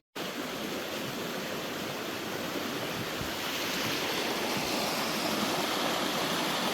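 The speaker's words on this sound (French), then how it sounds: "des belles petites cascades" Small waterfalls cascading beside a mountain trail on Mont Daviault near Fermont, a steady, even rush of falling water with no pauses, moderately loud and heard alone without voices.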